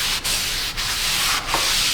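Brake cleaner sprayed onto a clean rag while servicing oily front brake parts on a Honda Odyssey, a steady close hiss broken by brief pauses, loud and alone.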